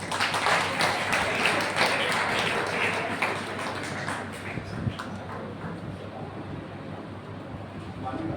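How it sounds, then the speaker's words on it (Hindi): An audience claps continuously at a coaching-class celebration for selected NEET students, a dense wash of applause that is strongest at first and then eases, with some voices underneath. "तो तालियां बजाते रहिए।"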